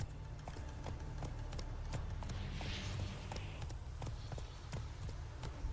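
Roach, the horse in The Witcher 3, clip-clops along in a steady, even rhythm of faint hoofbeats over a low rumbling game background.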